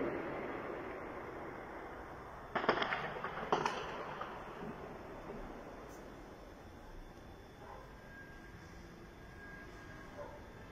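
Gunfire from armed clashes between families in the Lailaki area, heard from a home as two distant sharp bursts early on, followed by fainter pops over a steady outdoor rumble, with a voice talking.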